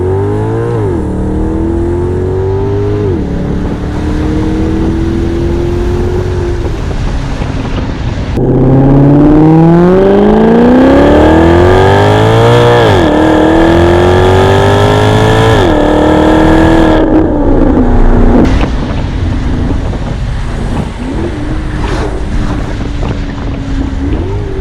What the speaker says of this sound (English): sorry if the wind noise kills a lot of things here